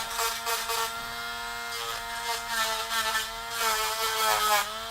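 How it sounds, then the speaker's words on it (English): Small rotary drill whirring in a high, harmonic-rich tone as it bores out hardened super glue, with pitch wavering under changing pressure in short, continuous bursts, close and fairly loud. "We're going to drill this out. Make it a little more smooth."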